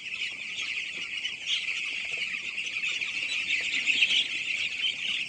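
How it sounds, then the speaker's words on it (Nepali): A dense, continuous chorus of high-pitched peeping comes from about two thousand six-day-old chicks on a poultry farm, steady and fairly close with no talking. "तर यो चल्लाहरू चाहिँ ठिकै छ"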